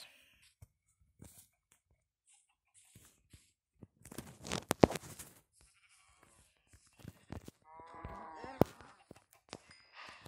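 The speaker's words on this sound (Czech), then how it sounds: "máme 5 kraviček. A teď zabijeme." Livestock mooing and bleating sounds come from Minecraft cows being killed, scattered among clangs and sharp hit clicks, mostly faint with a few louder bursts.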